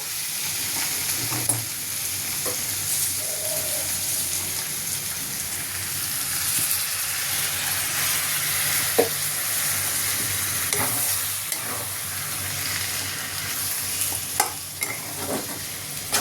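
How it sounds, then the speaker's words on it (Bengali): Mushroom curry with tomato sauce being stirred in a pan, a continuous close sizzle and bubbling with irregular scraping and clicks of the spoon, no voices. "আবার ভালো করে টমেটো সসটা দিয়ে ভালোভাবে মিশিয়ে নিচ্ছি।"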